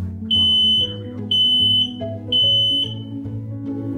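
Three loud, high-pitched electronic beeps from a smoke alarm, each about half a second long, evenly spaced with short pauses between.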